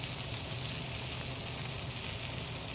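Skin searing in a hot pan gives a steady, dense sizzle close up, continuous and even throughout with no voices.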